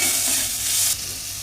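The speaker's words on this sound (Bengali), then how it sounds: "আমি একটু পেঁয়াজ আর আদাটা একটু ভাজা মতো হলে" Onion and ginger with salt frying in a pan for rice paneer, stirred: a close, bright continuous sizzle with scraping stirs, loud and alone, easing slightly near the end.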